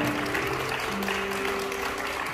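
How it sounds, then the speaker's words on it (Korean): Wedding guests in a Bucheon wedding hall applaud the bride and groom after their bow, a steady, moderately loud crowd clapping that holds evenly throughout. "여러분 큰 박수 부탁드립니다."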